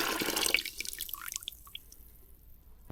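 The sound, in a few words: pouring hot sugar mixture into a winemaking vessel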